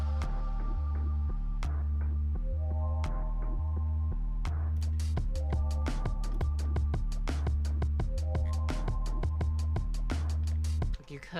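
Drum track with the bright drums muted, leaving a throbbing low kick-and-bass pulse with sparse percussive hits, steady and loud without speech.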